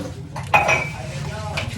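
Dishes, pots and utensils being washed, with a burst of clinking metal and clattering crockery near the middle over a steady low background, then quieter handling.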